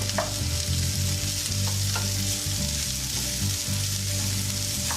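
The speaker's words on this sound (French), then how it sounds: "on va laisser revenir l'oignon et l'ail 5 minutes" Onion, garlic and Espelette peppers fry in a pan, a continuous close sizzle with a few light clicks from stirring, no voices, under a low steady hum.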